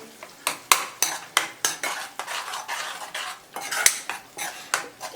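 A creamy fenugreek leaf curry is stirred in a pan, each sweeping spoon stroke scraping and clinking against the metal in a repeated rhythm over a soft sizzle.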